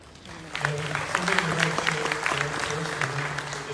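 Applause rises and continues steadily from an audience, dense clapping with a speaking voice faintly underneath.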